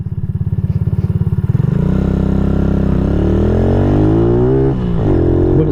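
A Venom SS3 / KP Mini 150cc motorcycle on the interstate, its small engine first pulsing rapidly, then climbing into a steady loud drone with rising pitch as it accelerates, close and continuous.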